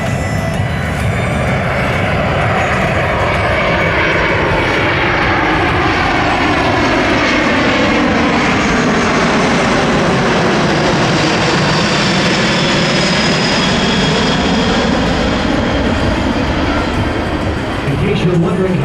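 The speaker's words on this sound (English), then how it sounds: "Now setting up now for the minimum radius turn, showcasing the crisp turning capability of the C-17." Boeing C-17 Globemaster III jet engines roar loud and steady as the transport aircraft flies a minimum radius turn at an air show demo, the pitch sweeping slowly as it banks past, with an announcer talking over it.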